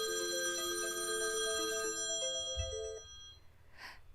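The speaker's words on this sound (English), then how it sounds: "my phone is ringing" A mobile phone rings nearby with a bright melodic ringtone, repeating tones for about three seconds before stopping, heard during a live sewing session.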